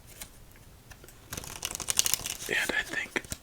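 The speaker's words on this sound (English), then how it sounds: "let's shuffle up for our final game of the night." A horror-themed deck of playing cards being shuffled, a run of dense crisp riffling clicks and rustles that swells into a louder flurry midway, close up and with no talking.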